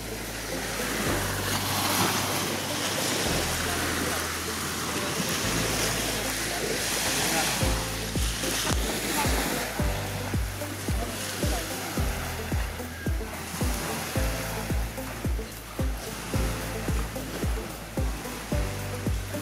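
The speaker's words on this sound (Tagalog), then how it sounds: "napakalinaw po ng tubig niya na humahampas dito sa dalampasigan" Clear waves breaking on a beach shore at San Francisco, Quezon, a constant roar of surf that turns into a steady rhythm of repeated washes rolling in every second or so, loud and close.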